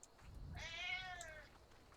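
A pet cat gives a single clear meow, close and lasting about a second, with no one talking over it.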